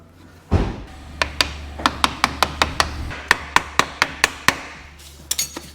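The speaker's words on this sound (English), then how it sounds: "you just tap it in with your hammer" A light hammer taps an XC800 rear wheel into its track with about a dozen sharp, evenly spaced knocks, close and distinct, after an initial thud, with a quick cluster of taps at the end.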